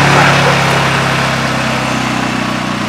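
A portable generator set to eco throttle runs close by with a loud, continuous buzzing engine drone that holds a steady pitch, easing slightly in volume over a few seconds.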